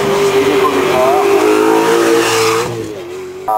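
A BMW 3 race car at the Mont-Dore hill climb roars past up close, its engine note holding high and loud then dropping away, with a commentator speaking over it.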